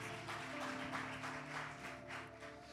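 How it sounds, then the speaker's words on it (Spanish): A church congregation claps in a steady rhythmic beat, close and fairly full, over sustained musical tones in the hall. "dale un aplauso al Señor si puede ahora, dale un aplauso"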